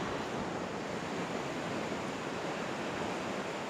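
Waves wash ashore on a peaceful beach, a steady, broad roar of surf mixed with wind buffeting the microphone, unbroken and without voices.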